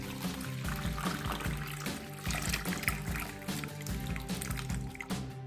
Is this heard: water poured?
yes